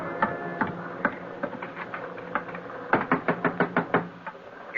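Repeated knocks on a door in an old radio drama, a few scattered raps followed by a quick run of firm, close knocks with no voices over them.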